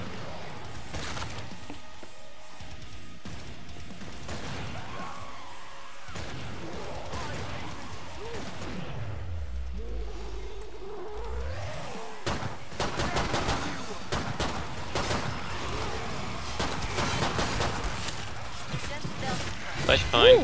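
Bursts of gunfire from the co-op shooter Killing Floor 2 during a prison-break mission, with scattered rapid shots under game music and effects while a person talks over it.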